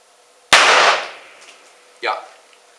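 A small Chinese firecracker goes off in a demonstration: one sharp, loud bang with a hissing decay, then a second, weaker pop about a second and a half later.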